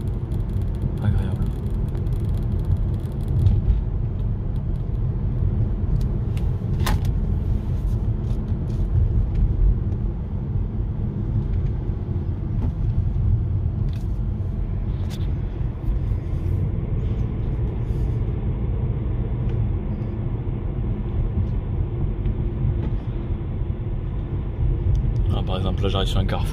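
A Toyota C-HR hybrid coasting downhill, heard from inside as a steady low road and drivetrain rumble that stays even throughout, with someone talking over it.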